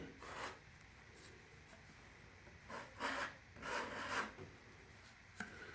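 A base coat of plaster is scraped flat by hand, giving soft rasping strokes in several short bursts, close but fairly quiet, with no speech.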